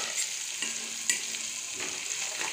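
Ginger paste hitting a hot pan and frying, a steady broadband sizzle with a few soft stirring scrapes and brief clinks, close and even throughout, no voices.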